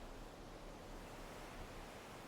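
Ocean waves wash against the sea shore as a steady, even roar of surf that stays constant throughout, faint and with no voices.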